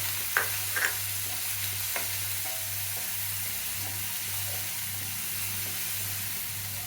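Chopped onions (about 100 g) frying in two ladles of oil in a pot on the stove: a low, steady sizzle with a few brief stirring clinks near the start, no voices.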